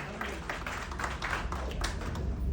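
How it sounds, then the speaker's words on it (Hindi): A seated audience at a Hindi poetry stage event claps steadily throughout, a moderately loud wash of applause with individual claps standing out, and no talking over it. "आप लोग एक बार जोरदार तालियां बजाइए।"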